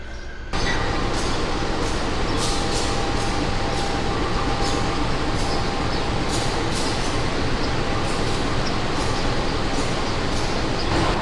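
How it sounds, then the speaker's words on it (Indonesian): Progo economy passenger train pulling into Purwokerto station, a steady loud rumble of wheels and carriages with rhythmic clatter and a faint high squeal running through the whole stretch. "Kereta Progo tiba di stasiun Purwokerto tepat sesuai jadwal jam 4:14"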